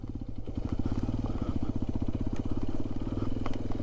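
A Hero Xpulse 210 motorcycle runs on the road, its engine giving a steady, rapid low thumping pulse close by, with a speaking voice and wind noise mixed in.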